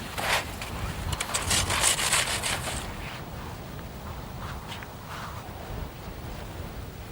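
A saw cuts through packed snow blocks, fitting them together while building a snow shelter outdoors. Rough rasping strokes come in a busy burst for the first three seconds, then a few softer scrapes follow against steady wind noise.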